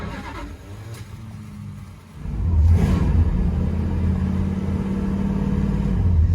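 A 1969 Dodge Polara with a weak starter cranks over, a low droning rumble that swells and holds steady, loud and close, with no talking.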